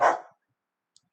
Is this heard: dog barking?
yes